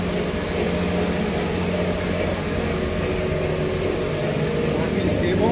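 An explosion-proof kneader mixer for NBR rubber runs with its vacuum and hydraulic systems and drive motor reducer, giving a steady, loud mechanical whir and hum that holds evenly throughout.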